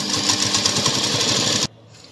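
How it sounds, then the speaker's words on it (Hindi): A sewing machine runs steadily, stitching the V-shaped neckline of a lehenga blouse, a loud, close, rapid needle chatter for nearly two seconds that stops abruptly into near silence. "इसे इस तरीके से घुमाते हुए वापस यहाँ पर सिलाई।"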